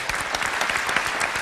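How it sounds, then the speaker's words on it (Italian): Audience at an Italian televised singing show in Aprilia claps for the staff and director, a short, lively burst of close, crisp handclaps with individual claps standing out in the crowd. "Applauso."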